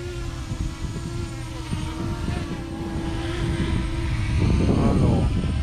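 A DIY fishing drone flies in the wind with a steady buzzing propeller whine that swells louder near the end as it is lowered, outdoors with wind noise.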